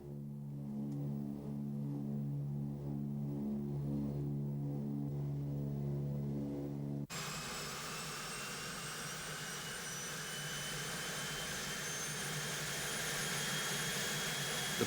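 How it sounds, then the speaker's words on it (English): Aircraft engines droning steadily in a plane flying toward Ward Hunt Island in the Canadian Arctic, first a deep tonal hum, then a louder broadband roar with a high whine, continuous throughout. "The plane lands on a snow-swept ice shelf"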